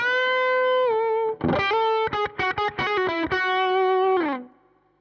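Electric guitar played through a Nepomuk Big Muk overdrive pedal with EQ and gain at noon: sustained overdriven chords and a burst of choppy staccato strums, then a final held chord that fades out, loud and close with no talking.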